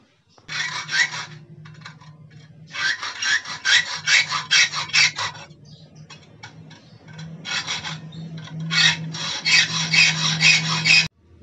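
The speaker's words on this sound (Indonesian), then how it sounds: "saya coba potong dulu teman-teman dengan menggunakan gergaji besi" A hacksaw rasps through a metal front shock absorber tube in repeated back-and-forth strokes, loud and close, in several bursts separated by short pauses.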